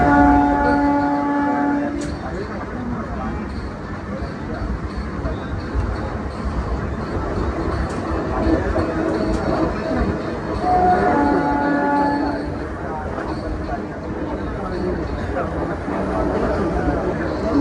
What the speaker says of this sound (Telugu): రాజధాని ఎక్స్ప్రెస్ 22691 హజరత్ నిజాముద్దీన్ రాజధాని ఎక్స్ప్రెస్ వెళ్ళిపోయింది.